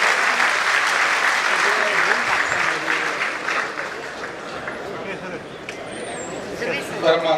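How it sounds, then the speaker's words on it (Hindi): A large audience at a formal Bharat Vikas Parishad event applauds loudly as the national president arrives. Dense clapping runs throughout, easing somewhat toward the middle and swelling again near the end, with murmuring voices mixed in. "गजेंद्र सिंह संधू, जोरदार तालियों के बीच में हमारे राष्ट्रीय अध्यक्ष आ रहे हैं।"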